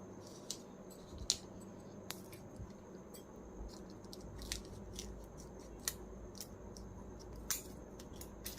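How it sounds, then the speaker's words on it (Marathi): Scissors snip around a round shape, cutting a wick-holder disc for floating Diwali lamps. Sharp, irregular clicks and snips come faintly and close by over a quiet background, with no talking. "हा कापून घेऊयात"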